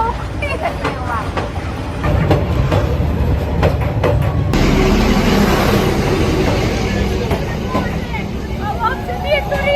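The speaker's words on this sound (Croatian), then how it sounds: "gledaj koliko ide taj vlak." A train rolls past close by through a residential street in Hanoi, a loud steady rumble with rhythmic clatter of wheels throughout, while people talk nearby.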